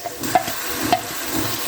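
Ginger garlic paste fries with onions in a pan for biryani, giving a soft steady sizzle with a couple of brief stirring scrapes, close and fairly loud, with no voices.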